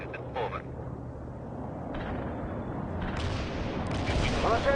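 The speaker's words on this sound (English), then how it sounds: "Mortar strike executed." Mortar strikes land in World in Conflict: Soviet Assault amid a battlefield din, a steady rumble of combat with several distant bursts and rattling fire, while radio voices talk over it.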